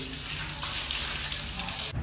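Water runs steadily from a tap in a village home, a continuous loud hiss and splash filling the whole clip.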